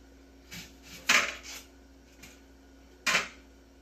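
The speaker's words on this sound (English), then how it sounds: "I'm going to add 2 onions. So again, cut off the sides." Knife slicing the ends off an onion for salsa on a cutting board: a few short scraping cuts, two sharper and louder than the rest, close and alone.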